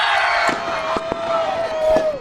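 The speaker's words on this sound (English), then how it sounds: "We've got fireworks in the ring right now!" Fireworks set off inside the ring at a Lucha Xtreme wrestling event: several sharp bangs and pops burst over a loud, steady crowd roar, with a long whistling tone sliding through the middle and fading at the end.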